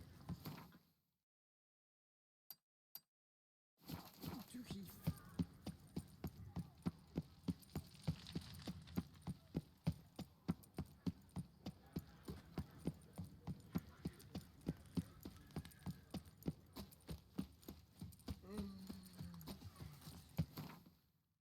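Roach the horse's hooves clip-clop in a steady, even trot through The Witcher 3, a long run of regular close hoof strikes over a low ambient hum, following a few isolated clicks after a brief silence.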